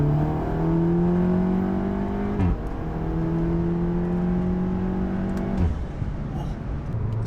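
A 2019 Volkswagen Golf R with a stage one tune accelerating hard, its loud engine note climbing steadily in pitch through two gears with a brief dip at each shift, heard from inside the car.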